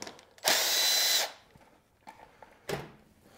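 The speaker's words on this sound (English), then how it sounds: "I'm gonna pop this bolt out." A power tool whirs in one short loud burst while backing a bolt out during a high fender kit install on a Yamaha Tenere 700, followed by a brief second spurt among quiet handling noises.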